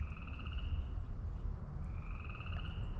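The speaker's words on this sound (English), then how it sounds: "You hear the frogs?" Frogs croak outdoors at a distance, two steady trilling calls repeating over a low rumbling background of wind or distant noise, with no talking.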